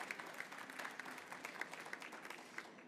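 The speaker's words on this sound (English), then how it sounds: "We'll give him a quick round of applause" Quiet, steady applause from a conference audience at a COP-21 resilience panel, with many hands clapping in a dense, even patter that sounds somewhat distant.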